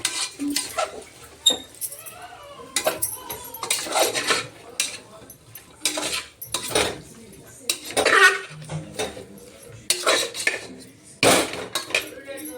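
Food is stirred and mixed in a pot in a home kitchen: a spoon scrapes and clinks against the metal in irregular bursts, close and fairly clear, with quiet pauses between strokes.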